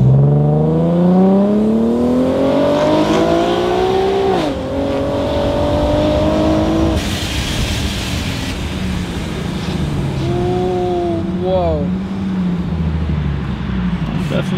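Supercharged Infiniti Q50 with a 3.7-liter engine running hard on a dyno, engine rising in pitch through repeated revving pulls with a brief drop and a sharp blow-off burst midway, loud and close throughout.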